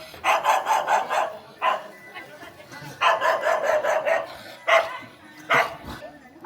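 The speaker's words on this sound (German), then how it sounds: "Und hier sind auch immer ganz viele Hunde auf der Straße." Dogs bark on a village street in rural Nepal, several loud, close barks and yips in bursts with short pauses, mixed with faint background street noise.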